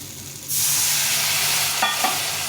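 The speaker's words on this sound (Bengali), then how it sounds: "এখন এর মধ্যে সামান্য একটু জল দিয়ে দেবো" A sudden loud hiss of sizzling erupts as water hits frying carambola with turmeric and salt in a hot pan and keeps spitting steadily, with a couple of clinks from a utensil.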